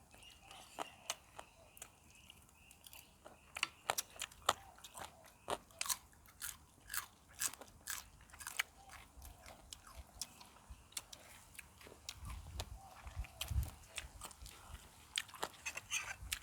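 Close, crisp bites and crunchy chewing of fresh raw vegetables such as tomato, eaten with spicy pounded chicken; irregular sharp crunches repeat steadily throughout, loud and near, with no talking.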